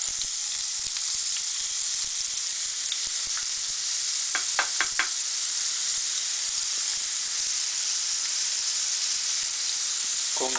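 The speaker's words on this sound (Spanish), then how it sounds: "Cuando ya tengamos la sartén caliente, procederemos a incorporar las cebollas." Onions frying in a hot, small, tall-sided pan give off a steady, close hissing sizzle, with a few brief clicks and scrapes partway through and no speech.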